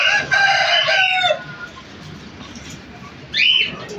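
Chickens on a rooftop coop as the gate opens, a rooster's crow-like call at the start followed by quiet ambience, then another short squawking call near the end, close and moderately loud.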